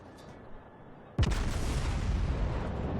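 A New Mexico battleship fires a broadside in the World of Warships naval game: a single sudden, loud boom that rolls into a sustained heavy rumble and roar, preceded by quieter ambient game noise.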